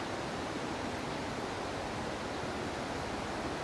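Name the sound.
large river rushing after flood rains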